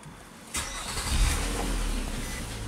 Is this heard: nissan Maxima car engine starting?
yes